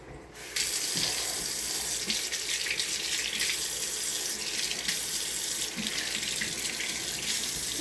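Warm water runs steadily from a tap into a sink in winter, a continuous close rushing hiss that starts abruptly and holds.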